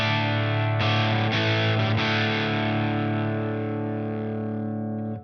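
An electric guitar runs through a Bluesmaker pedal, compressor, reverb and a Greenback cabinet IR amp modeler, giving a loud, fuzzy sustained chord with a couple of re-picked strums that rings out and decays for several seconds.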